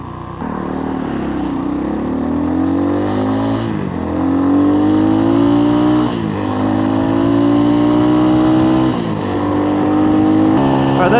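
An X-Pro Templar 250 dual sport motorcycle engine revving hard while riding, its loud buzzing pitch climbing repeatedly through gear changes.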